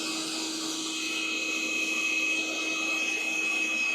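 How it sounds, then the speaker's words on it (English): A heat gun runs with a steady, even blowing whir and a faint high whine while heating a part on a 40-year-old motorcycle, continuous and fairly quiet with no talk. "Okay, heat gun."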